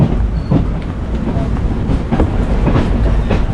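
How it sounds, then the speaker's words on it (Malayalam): The 06450 Kayamkulam–Ernakulam unreserved express rumbles into Cherthala railway station, heard up close as a heavy low rumble with rhythmic wheel clatter over the rails. "ചേർത്തല റെയിൽവേ സ്റ്റേഷൻ എത്തിയിരിക്കുകയാണ്."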